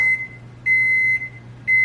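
An oven's control panel gives three sharp, identical electronic beeps, evenly spaced and close, as the baking temperature for homemade sourdough bagels is lowered from 450 to 400 degrees.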